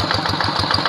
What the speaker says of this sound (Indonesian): ketangguhan, kelincahan mesin traktor Quick Impala